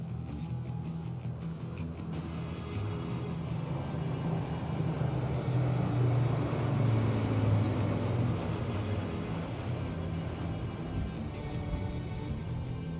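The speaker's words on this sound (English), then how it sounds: "Flanking it are two C-295 aircraft, flown by Group Captain Shivam P.K. Vasan" Military C-295 transport aircraft flying over a Republic Day parade on Kartavya Path, a steady loud low engine drone and rumble that swells slightly mid-way and holds throughout, with no talk.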